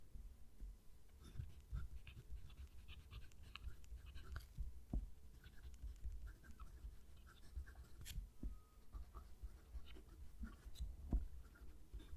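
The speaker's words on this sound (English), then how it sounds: "I'm going to move the mic down to the page so you can hear the pen write" Platinum 3776 Century fountain pen with a stiff music nib writing on paper, close to the page, giving faint continuous scratchy strokes with small taps and pauses, quiet and alone.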